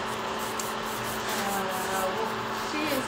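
A 180-grit nail file scrapes steadily across a nail in a continuous, close rubbing texture with no clear breaks, heard alone at moderate level.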